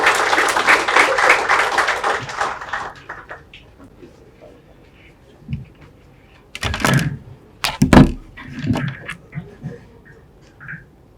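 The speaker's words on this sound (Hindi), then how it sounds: "जोरदार तालियों से स्वागत कीजिए" Audience applause welcoming a speaker at a student orientation session for a coaching academy's course, a dense burst of clapping for the first few seconds that fades out, followed by scattered knocks and shuffling noises.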